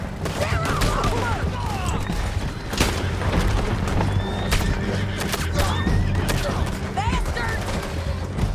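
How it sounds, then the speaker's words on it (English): Horses neigh and whinny amid galloping riders in a Red Dead Redemption 2 gunfight, loud and continuous, mixed with bursts of gunfire and someone shouting over the chaos. "Men on horses! They're going to hit me!"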